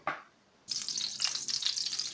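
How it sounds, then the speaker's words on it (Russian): A brief tap, a pause, then a steady crackling sizzle of apple fritter batter frying in hot oil, close and continuous. "Будем жарить наши оладушки."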